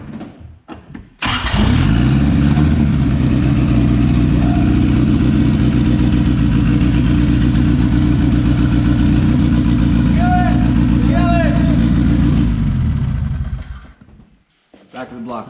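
A MiniMe coupe's engine cranks and fires, then runs at a loud steady idle close by for about ten seconds before shutting off, with brief voices heard around it.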